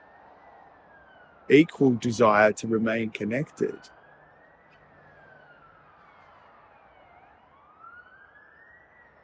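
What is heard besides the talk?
siren passing outside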